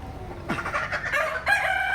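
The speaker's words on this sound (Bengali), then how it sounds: "এটা হচ্ছে আমার অরিজিনাল টাইগার মুরগির প্যারেন্টস" A Tiger breed rooster on a poultry farm crows loudly and close by, one drawn-out call rising after a short cluck, with other chickens faintly present.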